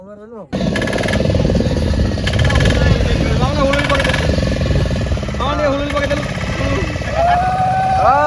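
A motor boat pulls away on Chilika lake, its engine starting abruptly and then running loud and close in a steady throbbing drone, while people talk over it throughout.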